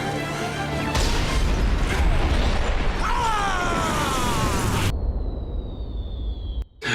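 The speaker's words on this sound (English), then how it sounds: "That was a much bigger explosion than I was expecting." A small car explodes in a scene from How the Grinch Stole Christmas: a loud, sustained blast and rumbling crash fill several seconds with crackling debris, then cut abruptly to near quiet with a faint whine.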